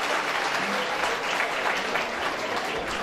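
An audience at a volunteers' gathering claps warmly for the women called forward, producing a thick, continuous roar of hands that is loud and near and holds evenly from start to finish.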